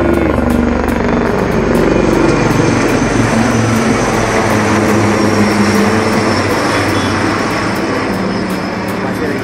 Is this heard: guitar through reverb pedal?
no